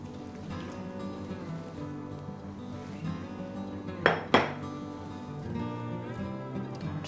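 Frothy egg and milk mixture being stirred into a corn and flour batter in a dish: soft, continuous scraping and stirring over a steady low hum, broken by two sharp utensil clinks against the dish.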